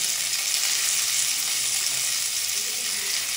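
Cauliflower florets fry in a pan with salt and a pinch of turmeric, giving a steady, close, loud sizzle that runs unbroken and alone throughout.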